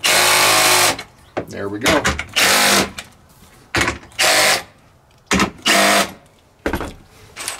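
A power drill driving self-drilling screws to fasten solar panel brackets, loud whirring bursts that start and stop repeatedly, with brief pauses and a short spoken remark between runs.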